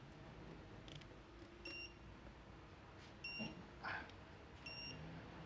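A digital torque wrench set to 19 foot-pounds chirps in three short, faint electronic beeps, spaced over a few seconds, while an oil cartridge filter housing is tightened on a 2026 Hyundai Tucson in a quiet setting.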